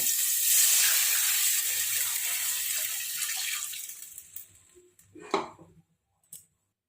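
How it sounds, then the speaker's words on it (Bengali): Water poured into a pan of lightly fried chicken for soup, giving a loud, hissing sizzle that fades over several seconds, then a few brief clatters near the end. "এবার জল অ্যাড করব, 2 বাটির মতো প্রথমে জল অ্যাড করে সেদ্ধ করব।"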